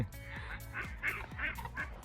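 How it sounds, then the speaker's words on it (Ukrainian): Several short nasal duck calls in quick succession at a reservoir, fairly close, with a steady low background rumble. "Качки сміються з мене."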